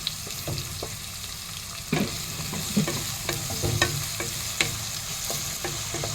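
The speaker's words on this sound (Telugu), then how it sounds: "ఇవి రెండు వేగుతున్నాయి కదా కొద్దిసేపు వేగదిద్దాం" Chopped onions and green chilies fry in a pan with a steady close sizzle, broken by a few spoon scrapes and clinks of stirring.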